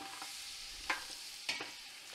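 Butter melting into olive oil and leftover meatball grease makes a faint, even sizzle, with two quick utensil scrapes against the pan.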